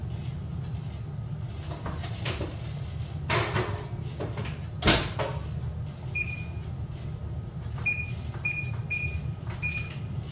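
Oven door swung open and shut while returning rising sourdough bread to a warm oven, heard as a few close clunks and thumps against a steady low kitchen hum, with small high beeps near the end.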